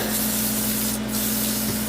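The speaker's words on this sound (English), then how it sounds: "I like using this soft sandpaper because it's got foam backing" Steady, continuous rubbing rasp of soft foam-backed sandpaper worked back and forth on a surface, close and fairly loud, with no voices.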